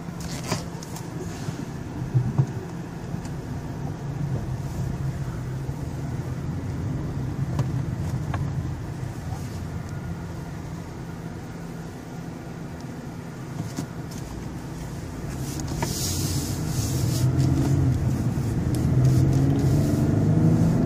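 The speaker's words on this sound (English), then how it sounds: "Gonna go ahead and take it for a test drive right now." A 2012 Cadillac CTS driving with a steady engine drone and road rumble from inside the cabin, growing louder as it speeds up near the end.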